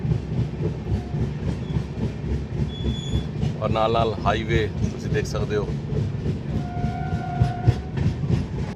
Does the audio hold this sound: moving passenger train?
yes